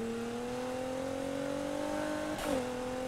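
A car in the racing game Need for Speed Heat drones at steady engine pitch, rising slowly, then the turbo lets out a short whooshing flutter near the end; loud, with no talk.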